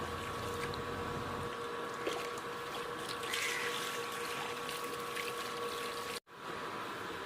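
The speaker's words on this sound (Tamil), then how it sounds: "ஸோ நல்லா தண்ணி ஊற்றி வாஷ் பண்ணி எடுத்துக்குவோம்" Water pouring and trickling steadily while fish is being washed by hand, a continuous close splashing flow with a brief cutoff near the end.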